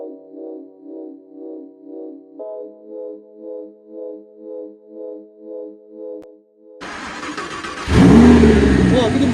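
A Mercedes-AMG GT S or Audi R8 engine roars to life and revs loudly up close in the last few seconds, after a stretch of steady pulsing electronic tones.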